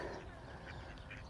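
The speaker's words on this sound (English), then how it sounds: "There's ducks everywhere. And they look like they're having a jolly good time here." Ducks quack faintly in short nasal bursts, a few calls scattered across an outdoor murmur, distant and quiet.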